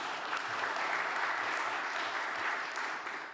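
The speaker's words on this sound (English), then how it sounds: "pat yourself on the back and clap for everybody else" An audience at a soil health and food security event claps together, a steady, even wash of many hands heard at a moderate distance and fairly soft, with no voices over it.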